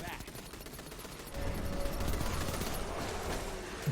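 Gunfire in Destiny 2, played during the Solstice event, comes as steady rapid shots in a thick continuous rattle that grows louder partway through. A player talks over it.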